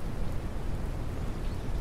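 Steady rain falls in the survival game Mist Survival, a continuous dense hiss with low rumble, fairly loud and even throughout with no voices.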